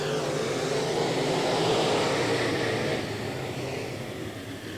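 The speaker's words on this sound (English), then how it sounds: "Yeah, green flag back out. Tight racing down the back straightaway." Sportsman race cars run at Legion Speedway during a restart, their engines making a broad, continuous roar that swells and then slowly fades as the pack moves down the back straightaway, heard from a distance without talk.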